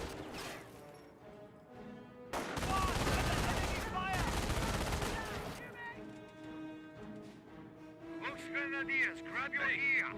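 Bursts of MG42 machine gun fire in the Company of Heroes 1 strategy game, a rapid rattling stream at mid distance mixed with other battle effects, while a commentator talks over the action.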